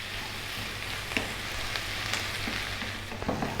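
Onions frying in butter in a pan give a soft, steady sizzle and crackle at low level, with a few small scraping taps from stirring.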